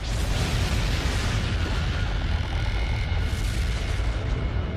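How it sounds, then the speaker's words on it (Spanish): A deep, rumbling boom rolls on continuously, a dense roar of blast-like noise with no voices. "La explosión hace volar la nube de polvo y roca y deja paso a una nueva estrella."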